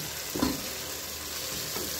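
Tomatoes fry in a pan with a constant close sizzle. A couple of soft stirring scrapes rise over the steady crackle.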